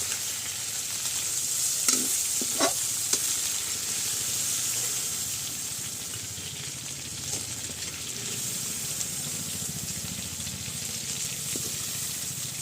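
Fish coated in salt and turmeric frying in hot oil in a Bengali home kitchen, a steady close sizzle and hiss running throughout with a few brief clinks of utensils, no talking.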